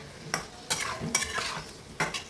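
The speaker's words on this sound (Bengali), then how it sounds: "মশলাটা ভালো করে কষিয়ে নিতে" Spice masala for egg curry fries and is stirred in a pan, with four or five brisk spatula scrapes over a steady, close sizzle.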